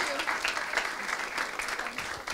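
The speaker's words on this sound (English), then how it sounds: "Big applause for her for coming today" Quiet applause from a small group at a basketball players' workshop thanking a guest, a soft even patter of hands clapping throughout with some faint voices mixed in.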